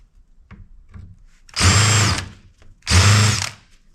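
Cordless power drill backing screws out of electronics headed for scrap, two sustained whirring bursts about a second each, close and loud, with light handling clicks before.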